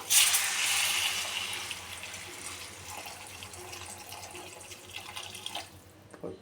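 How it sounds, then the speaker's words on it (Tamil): Water streams steadily into a cooking pot for a banana (vazhakkai) curry, a close, hissy splash that starts strongest and gradually softens as the pot fills. "பாருங்கள் நண்பர்களே, தண்ணியை சேர்த்துப்போம்."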